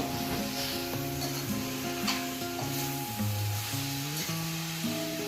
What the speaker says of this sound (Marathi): चला आता मेथी आणि मसाला हे सगळं मिक्स करून घ्यायचं आहे.